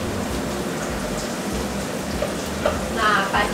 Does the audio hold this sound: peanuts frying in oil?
yes